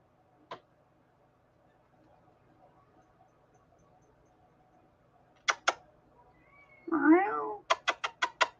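A cat gives a single clear meow near the end of a mostly quiet stretch, surrounded by sharp isolated clicks and a quick run of ticking taps.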